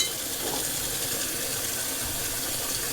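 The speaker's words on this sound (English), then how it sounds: "I just put a little water back in it just so I can swish my razor around in there." Water sloshes and swishes in a partly filled bathroom sink as a bronze open-comb safety razor is rinsed, a steady, continuous wash of watery noise throughout, moderately loud and close, with no talking.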